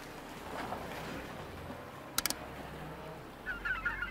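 Faint honking seagull calls in the Demon Hunter game, a brief cry early on, a quick clicking burst in the middle, and a louder squawking flurry at the end over a quiet ambient hum.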